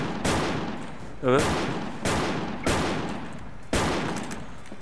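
M500 shotgun fired in a video game: five heavy, booming blasts at a steady interval with decaying tails, and a brief spoken word between shots.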